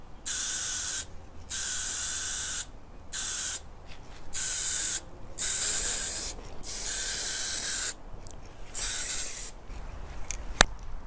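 Bursts of spray-gun paint hiss as top coat goes onto a Philips Model 353A radio cabinet, several sustained passes separated by short pauses, steady and fairly close, with no talking.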